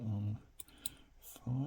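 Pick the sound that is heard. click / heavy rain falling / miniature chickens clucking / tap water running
click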